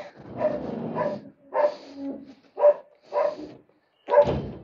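A dog barks in five separate bursts with short pauses between, close and fairly loud, with no other sound.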